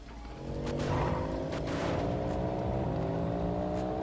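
Bugatti supercar driving in the Roblox Vehicle Simulator racing game, its engine a steady loud drone with rising harmonic tones as it accelerates, continuous throughout with no talk.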